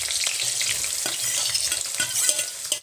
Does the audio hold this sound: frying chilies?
yes